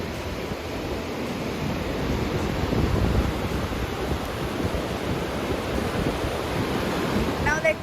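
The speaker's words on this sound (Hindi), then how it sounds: "आई होप आपको साउंड आ रही होगी पानी की, जो कि बहुत ही ब्यूटीफुल है" River water flows on the road from Delhi toward Gangotri, a steady broad rushing roar mixed with gusting wind buffeting the microphone, continuous and fairly loud.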